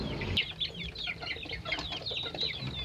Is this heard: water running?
no